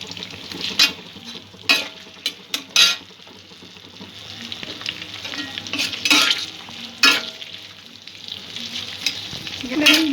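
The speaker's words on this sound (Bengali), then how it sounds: "মিডিয়াম রেখে সব কিছু ভেজে নিচ্ছি।" Chopped capsicum and garlic fry over medium heat for prawn manchurian, a steady sizzle in the pan broken by several sharp scrapes and clinks of a metal spatula stirring against the pan.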